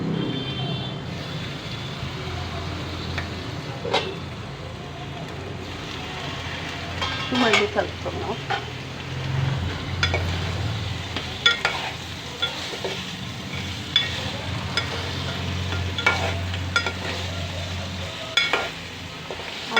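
Sea crabs sizzling and frying in a spiced masala with garlic for crab curry, with steady close sizzle, stirring and occasional clinks of a utensil against the pan.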